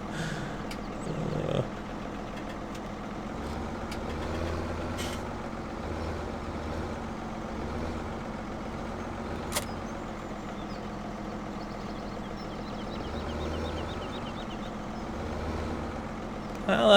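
A tractor engine labors under a heavy load, a steady low rumble throughout with brief louder bursts near the start and end, as someone speaks intermittently over it.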